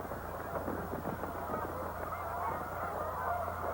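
Geese honk steadily and loudly in a continuous chorus of overlapping calls, with wind rumbling across the microphone.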